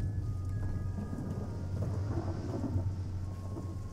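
Continuous thunderstorm with steady rain and low rumbling thunder in the horror game Slender: The Arrival, a dense, loud wash of storm noise filling the whole stretch with no talk over it.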